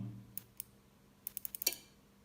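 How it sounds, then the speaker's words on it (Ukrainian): A relay inside the controller of a small press clicks several times in quick, irregular sharp ticks, a pair early and then a rapid cluster, with a low motor hum underneath. "Реле якесь клацає, причому без результату."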